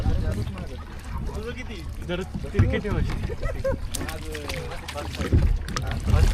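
A rowboat is rowed on a dam lake at Kasarsai, with oar and water sounds close by under steady conversation and laughter from people on board.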